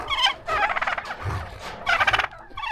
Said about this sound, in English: There's turkeys